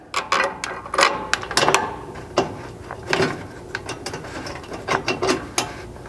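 A ratchet clicks in repeated bursts while factory hardware is tightened back into a skid plate on a Chevy Colorado, quick pawl ticks coming near and fairly loud in several separate runs.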